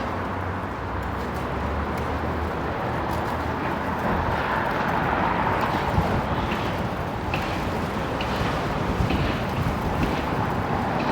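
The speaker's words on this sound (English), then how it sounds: "this wind is fun" Wind buffets the microphone while cycling on Toronto's Lower Don Trail, a steady, close, rumbling roar throughout with no talking.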